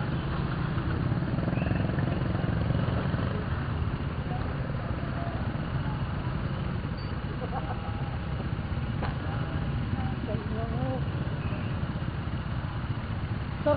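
A motorcycle engine idles nearby in a steady low rumble throughout, with faint clatter and distant voices.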